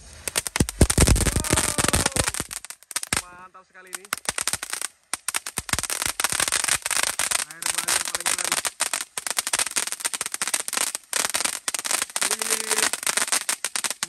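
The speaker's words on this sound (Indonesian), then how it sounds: "Lanjut kita nyalakan mercon Beauty Fountain." A Beauty Fountain firework fountain burns at night during Ramadan with a dense, continuous crackle and sputter for over ten seconds. A voice speaks briefly over it.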